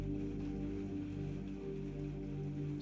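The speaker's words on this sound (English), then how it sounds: "The lamplight fades, and the rain, the gentle rain," Gentle rain falls steadily on a surface at night in an ancient Roman setting, a soft continuous patter under a low background hum, with no voices.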